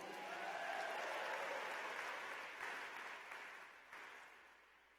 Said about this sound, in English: They definitely deserve a louder applause.